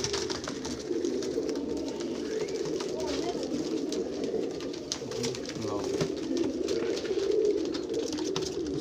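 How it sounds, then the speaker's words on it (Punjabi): Red-eyed pigeons coo in a dense, continuous chorus nearby, with overlapping soft throaty calls rolling on without a break. "ਇੱਕ ਆਹ ਖੱਟੀ ਅੱਖ ਦਾ ਕਬੂਤਰ ਹੈ ਲਾਲ, ਬਹੁਤ ਸ਼ਾਨਦਾਰ ਕਬੂਤਰ।"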